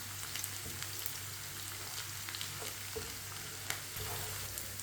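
Onions fry with a steady crackling sizzle in a pan while a spoon stirs them, giving occasional scraping clicks. Close and continuous, with no voices.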